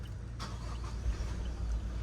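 A Toyota Fortuner Leader Edition diesel SUV starts with a brief burst, then settles into a low, steady idle rumble heard close up with the air conditioning off.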